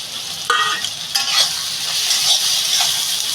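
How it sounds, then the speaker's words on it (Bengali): Rohu fish head mixture with tomato and chopped green chili frying in a pan, a steady close sizzle with a few sharp stirring scrapes near the start, no voices. "এবার একটু এটা ভেজে নেব বন্ধুরা কিছু কাঁচা লঙ্কা কুচি দিয়ে দেবো"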